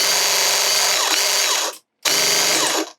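A Graco Ultra QuickShot airless sprayer pumps primer through its system with a loud, steady mechanical whir and rattle. It cuts out for a moment, then starts again at full strength.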